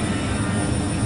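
Steady, loud broadband roar of an Airbus A321 with IAE engines in Flight Simulator 2004, a continuous engine drone with a low rumble and no voices.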